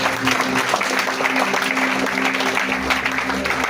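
A church congregation applauds in praise during a French-language service, a dense, sustained wash of clapping with a steady hum underneath and no gaps.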